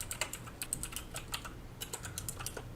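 Rapid typing on a computer keyboard while code is entered from memory, a steady run of crisp, close clicks and key taps with no talking.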